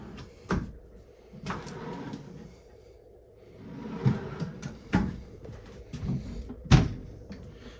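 Several wooden drawer knocks and slides in a 2021 Alpha Wolf 33BH-L travel trailer, about five distinct clunks spaced a second or two apart in a quiet room, with soft handling noise between.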